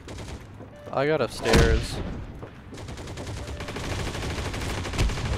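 Video game gunfire, a close loud shot and a crackling burst followed by sustained rattling automatic fire, with someone talking briefly over the start.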